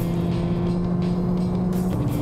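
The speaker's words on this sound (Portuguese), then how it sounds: "Já mudou até o som do carro." Volkswagen Virtus GTS engine switched into sport mode, a steady low hum with strong tonal bands holding throughout, close and continuous with no talk.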